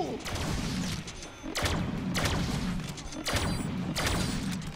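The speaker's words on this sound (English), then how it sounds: "I'll shoot you with my laser gun" Laser gun shots in the Deadpool video game, fired in bursts roughly every second and a half, each a bright crackling blast over a busy game soundtrack.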